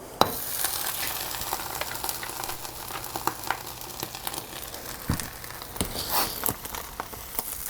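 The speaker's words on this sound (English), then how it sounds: "I'm just going to cool it by throwing it in the snow" Hot freshly welded metal part from an Ariens snowblower sizzles and crackles as it is pushed into snow, a steady close hiss with scattered sharp pops and ticks throughout.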